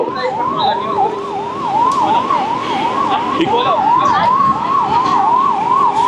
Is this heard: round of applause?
no